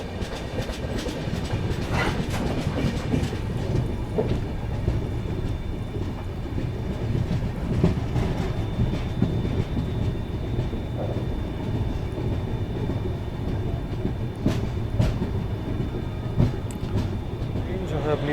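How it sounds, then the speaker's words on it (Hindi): The Dehradun–Subedarganj Express rolls into Muzampur junction with a loud, continuous rumble and steady clickety-clack of wagons passing close by, a faint squeal now and then. "ट्रेन जो है अपनी मुजामपुर जंक्शन पहुंच रही है"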